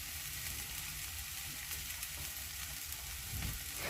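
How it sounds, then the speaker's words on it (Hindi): Turmeric powder is stirred and fried in a pan for lahsuni palak, making a soft, continuous sizzle with faint scraping at a close but quiet level. "इस तरह से चलाते हुए हल्दी को पका लेना है थोड़ी देर के लिए।"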